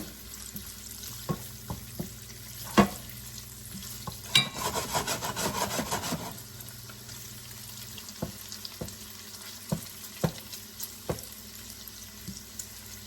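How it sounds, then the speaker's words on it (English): Cabbage sautéing in butter in a pan, a soft steady sizzle with occasional sharp clicks of a utensil, plus a burst of louder stirring and scraping for a couple of seconds midway. "Butter adds an amazing flavor to the sauteed cabbage."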